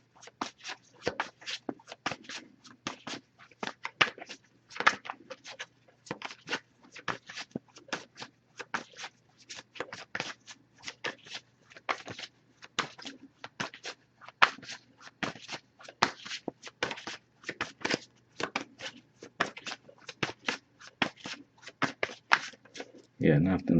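Repeated crisp riffling and slapping of a tarot deck being shuffled, quick irregular bursts close up over a long stretch, with a faint low hum beneath.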